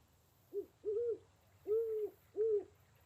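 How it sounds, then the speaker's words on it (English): A large owl in a cave adventure game hoots four times in a soft, evenly spaced series of low calls against a quiet background. "A large owl seems to be watching you."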